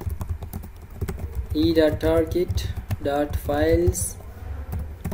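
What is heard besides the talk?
typing code on a computer keyboard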